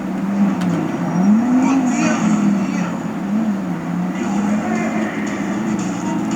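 A motorbike ridden in the video game GTA V, its engine droning steadily throughout with the pitch swelling and dipping as the throttle changes, fairly loud and continuous.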